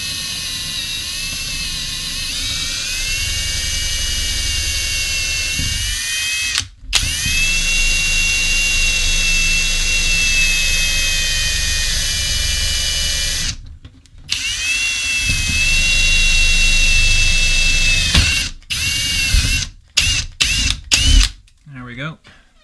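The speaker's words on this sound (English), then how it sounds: "Hold the drill bit as straight as you can get it." Power drill boring holes for cabinet knob and pull hardware, a loud close high-pitched whine running in long steady bursts with brief stops and several short on-off pulses near the end, a voice speaking intermittently.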